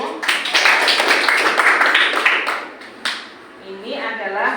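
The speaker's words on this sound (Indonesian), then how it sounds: "Beri tepuk tangan dulu" A classroom group claps together during a teaching-practice lesson, a loud burst of hand clapping for about three seconds that tapers off, followed by a voice speaking.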